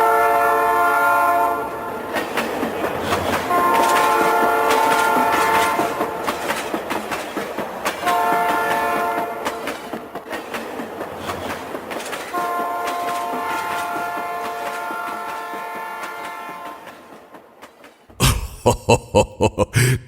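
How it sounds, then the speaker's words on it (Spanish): A train horn sounds in long sustained blasts while a train rumbles past, wheels clacking steadily, ending with a burst of rhythmic rail clatter. "Volvió a sonar el silbato del tren"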